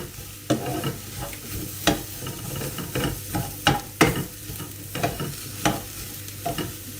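Garlic fries in a pan with a steady soft sizzle while a utensil stirs and scrapes it in sharp, irregular strokes roughly every half second, close and clear.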